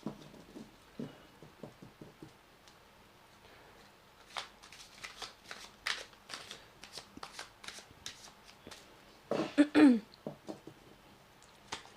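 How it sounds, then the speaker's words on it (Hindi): Tarot cards being shuffled and pulled from the deck at a reading, a run of soft papery riffles and taps across the whole stretch, louder flurries near the end, with no talking. "पहले मैं सारे कार्ड पुल कर लेती हूँ"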